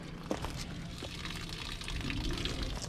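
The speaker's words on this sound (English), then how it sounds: "the water fills and it starts to siphon out the overflow valves" Water from an overfilled RV tank siphons out through the overflow valves, a faint, continuous gurgling pour with small splashes, close by and quiet.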